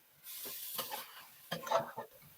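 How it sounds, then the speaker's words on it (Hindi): Minced meat (qeema) being fried with dry spices and garam masala powder in a pan, heard as quiet scraping stirs and soft sizzling in two short bursts, no voices. "1 मिनट के लिए मैं इन मसालों को कीमे के साथ भून लूंगी"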